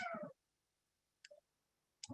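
A bossy house cat meows close by: one opening meow, then after a pause two short chirping mews, indoors and quiet.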